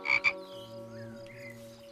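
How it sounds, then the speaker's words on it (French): A cartoon frog gives two quick, loud croaks at the start. A soft musical tone then sustains beneath them. "Ah, une grenouille!"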